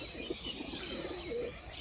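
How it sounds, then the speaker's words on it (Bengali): Pigeons in a loft, including a green one and a red-eyed female, give soft low coos and a few faint chirps at a moderate, steady level with no talking. "ওপরে বসে আছে কিছু পায়রা"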